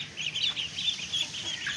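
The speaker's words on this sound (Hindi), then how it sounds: "ये इस साइड पे हमारे ये चूजे घूम रहा है" Soft clucking and peeping from several chicks, a busy continuous chatter of short high calls at moderate distance.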